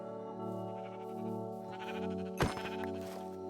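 Sheep in the video game Minecraft bleat with a wavering, nasal cry over a sustained tonal background of game music, ending in a sharp click-like burst near the end.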